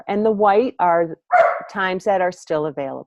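A dog barks and yips repeatedly, close and loud, in several short bursts that overlap a person talking.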